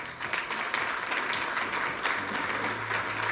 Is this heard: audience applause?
yes